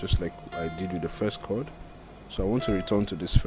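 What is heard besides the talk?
None of the usual background noises is heard.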